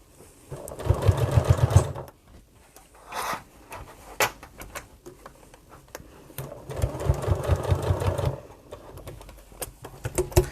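Sewing machine stitching fabric for a bag, running in two steady whirring bursts separated by a pause filled with small handling clicks and fabric rustles, close and moderately loud.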